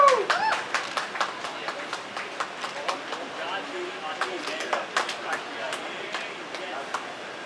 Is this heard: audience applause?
yes